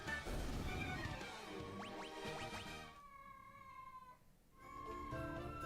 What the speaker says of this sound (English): I don't know if you can hear my cat screaming in the distance or not.